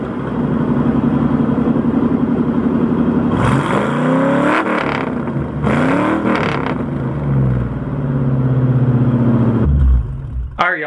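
Loud exhaust of a Foxbody Mustang idling with a heavy rumble, then two sharp revs that climb and fall back, a steady idle between them, ending in a final blip close by.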